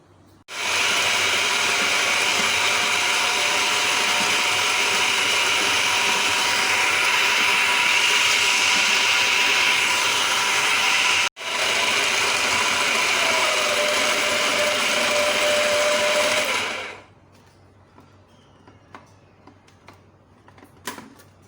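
Beef mince with garlic ginger paste, chili and butter is chopped with a loud, steady whirring for about seventeen seconds, cut by one brief pause midway, then stops, leaving quiet kitchen clatter.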